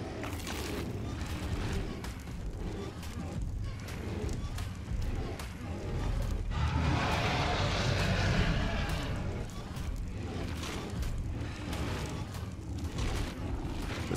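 A creature, likely a carnivore, is set ablaze in ARK: Survival Ascended. A rushing roar of fire swells for a few seconds midway and fades, with someone talking before and after over game noise.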